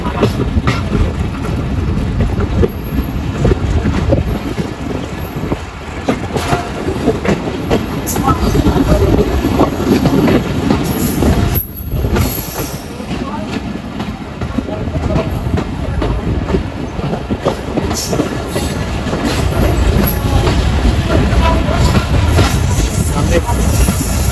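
A passenger express train rumbles steadily along the rails near Madhukhali Railway Junction station, with rhythmic clatter and occasional wheel squeal, loud and continuous throughout, with faint voices in the background.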